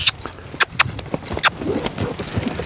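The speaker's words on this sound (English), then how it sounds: "I want to make sure that I can get that horse to pay attention to me" Hooves of an older green-broke horse striking the ground in a round pen, a loose series of soft thuds and clops at close range, mixed with some rustling and sharper knocks.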